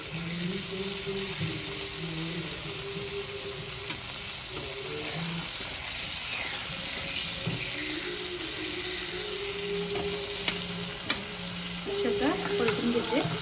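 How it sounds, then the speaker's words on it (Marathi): Steady frying sizzle with a spatula scraping and stirring in a pan, continuous and close, with occasional clinks and faint running water in the background. "तवा हलते"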